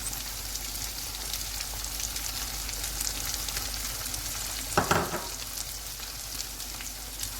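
Salted green chillies drop into a pan of frying okra masala, a constant loud sizzle broken by one brief clatter and burst of spitting as they land, then the frying settles back.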